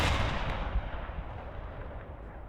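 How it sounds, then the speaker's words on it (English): A 120mm main battle cannon fires in a Warhammer 40K strategy video game, one heavy booming blast at the start with a long rumbling decay fading over a couple of seconds, loud and alone. "120mm main battle cannon."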